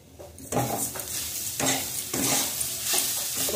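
Grated coconut and sugar are stirred in a hot pan, making loud rhythmic scraping sweeps over a continuous sizzle, with about four distinct strokes.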